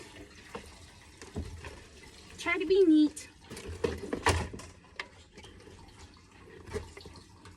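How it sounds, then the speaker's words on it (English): Gasoline sloshing and trickling as it is poured back into a Ford Milan fuel tank during a fuel pump replacement, a short close burst of liquid under a person speaking. "And then pour all the gasoline back into the tank."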